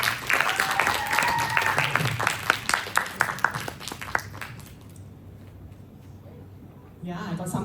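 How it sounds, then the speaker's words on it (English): Round of applause from an audience welcoming a speaker at a talk on first impressions and pitch, dense clapping for about four seconds with a few cheers, fading into quiet before the speaker begins. "Let's welcome Miss Florence with a big round of applause"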